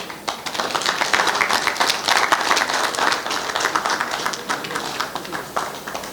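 Audience applause at the Quickmed Araya medical launch event, a lively round of close, crisp clapping from a gathered crowd, swelling and thinning slightly but continuing loud throughout.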